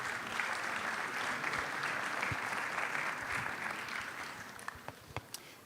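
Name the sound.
audience applause at architecture festival panel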